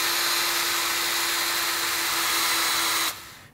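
A power drill twisting wire for guitar amplifier filaments whines at a steady high pitch for about three seconds, then cuts off abruptly and spins down.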